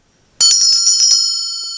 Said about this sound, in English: a bell. Now this is a weird clapper